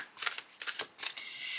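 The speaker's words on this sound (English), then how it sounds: "I'm just going to shuffle them again and cut them and lay them out." A deck of cards is riffle-shuffled three times in quick succession, each a crisp close burst of fluttering card edges, followed by a lighter continuous rustle.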